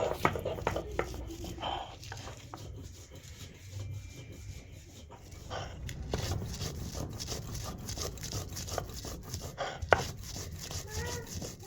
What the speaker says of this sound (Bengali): আমি শিলনোড়ার মধ্যেই করি আমার তো মিক্সি নেই তো এখানে পেঁয়াজ রসুন আর হচ্ছে লঙ্কা তো চলো এখন বেটে নিই তাড়াতাড়ি করে